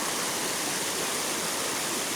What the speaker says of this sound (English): Yeah, the creek goes up here.